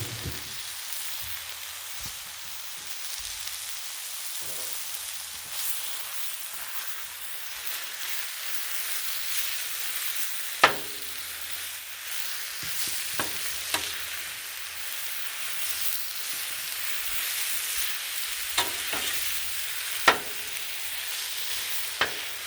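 Cheese steak meat sizzles on a hot griddle in a steady, bright hiss, punctuated by occasional sharp metallic scrapes and taps of a spatula.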